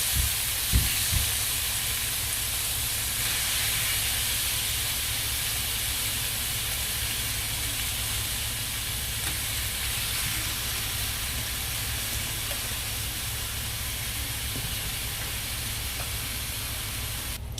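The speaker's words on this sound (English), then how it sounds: "I already have my water boiling and ready to go." A pot of water for penne pasta boils at a rolling boil with a steady, broad hiss and bubbling, and a couple of light clinks near the start.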